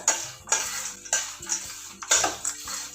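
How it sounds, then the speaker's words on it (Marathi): Spiced corn poha chivada is tossed and stirred in a hot pan, giving repeated scraping, clinking strokes about every half second, close and moderately quiet, with no voices. "खूप गरम आहे त्यामुळे टोपला असं वर खाली करून चांगलं व्यवस्थित मिक्स करून घ्यायचं"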